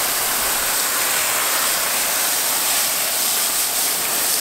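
A steady, loud water spray hisses without a break as boat trailer wheels are rinsed after being treated with Super Clean cleaner, a close, dense wash of noise running the whole time.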